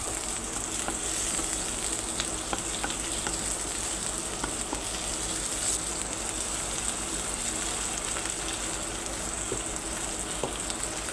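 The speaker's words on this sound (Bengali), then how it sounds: "আমার পেঁয়াজগুলো ভাজা ভাজা হয়ে আসছে।" Chopped onions fry in oil with tomato and green chili, making a soft, continuous crackling sizzle that stays even and fairly quiet, with occasional small pops and no voices.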